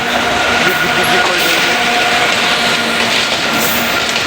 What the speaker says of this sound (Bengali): দেখো আমাদের পেছনে একটা ট্রেন চলে এসেছে, মালগাড়ি।